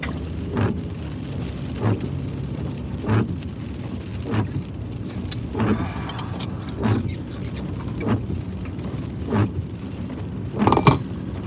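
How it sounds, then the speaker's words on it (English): Steady rain patters on a surface, with a sequence of regularly spaced thuds. "Still raining."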